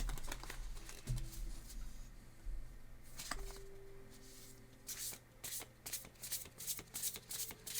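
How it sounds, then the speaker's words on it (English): An oversized oracle card deck is shuffled by hand, soft riffling and flapping of cards in irregular bursts, quiet and close with no talking. "so I got to kind of shuffle it a little bit differently"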